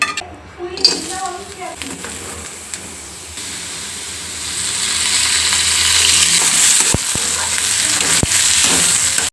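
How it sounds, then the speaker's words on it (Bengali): Oil sizzles and crackles steadily as koi, tengra and jiol fish fry in a pan, with brief voices near the start before the frying hiss grows louder. "3 রকমের মাছ ভাজা শেষ।"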